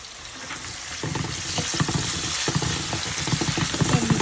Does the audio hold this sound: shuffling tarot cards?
no